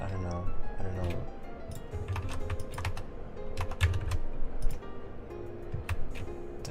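A computer keyboard clacks with rapid, uneven keystrokes, close and steady, with faint background music underneath.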